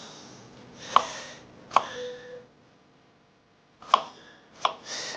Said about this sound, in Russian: Нарезаем картошку слайсами